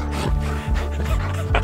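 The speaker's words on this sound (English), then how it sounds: "she barks if I stop petting her." A Bernese Mountain Dog gives short, close barks and yips at an irregular pace, a few sharp bursts within a couple of seconds.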